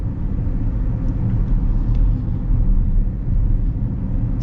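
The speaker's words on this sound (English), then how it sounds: "A little bit of road noise, but it's not bad." Steady low road rumble and tire roar fill the cabin of a 2025 Chevy Equinox at speed, a constant broadband hum with no talk over it.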